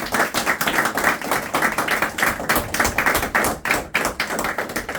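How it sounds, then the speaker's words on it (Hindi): A group of students claps steadily together at a school cultural event, fast uneven hand claps continuing close and loud without any talking. "एक बार हम चाहते हैं कि तुम लोग के लिए हम ताली बजाएं"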